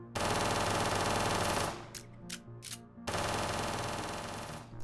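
Sustained automatic gunfire with recoil from a weapon in an indie first-person shooter game, loud and continuous bursts with a short break of scattered shots in the middle before firing resumes.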